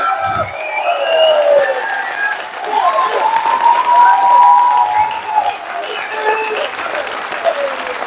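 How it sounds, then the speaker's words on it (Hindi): Loud, sustained applause from a large audience at an indoor event, with scattered cheering, filling the whole stretch while a voice speaks over it. "जोरदार तालियां होनी चाहिए"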